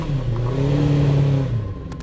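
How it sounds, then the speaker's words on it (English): An Empire Wraith hill climb race car with a 1000cc engine revs hard and steadily, its loud high-pitched engine note sustained, then dipping briefly near the end. "today he'll practice in the Formula One car of hill climbing. An Empire Wraith."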